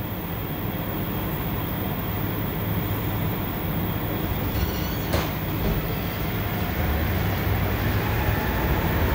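Inside a moving metro car the ride produces a continuous loud rumble and roar of wheels on rails, with a brief sharp squeal or clack midway and no talk.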